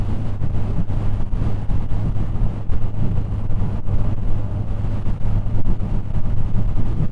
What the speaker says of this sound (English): I do love the sound of carbureted engines.